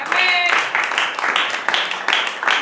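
Congregation clapping in a church service, loud, close rhythmic claps in a steady beat with a voice briefly heard over the start.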